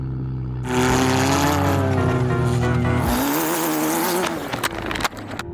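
Small cars race around a backyard track, their engines roaring loud and close with rising and falling revs before the noise breaks into rattling clatter near the end.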